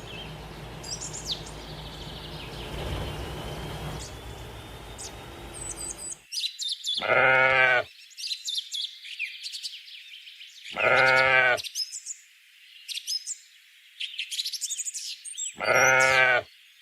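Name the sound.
sheep bleating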